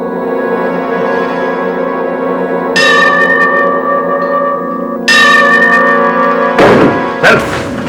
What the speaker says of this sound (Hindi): हाँ, घंटा बजता रहा।